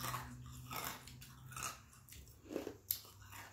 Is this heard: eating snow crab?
yes